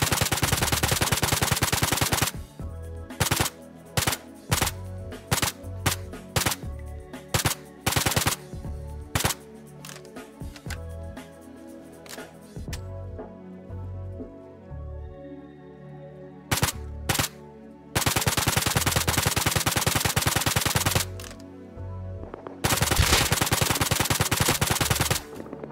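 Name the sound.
AK rifle gunfire in the video game Rust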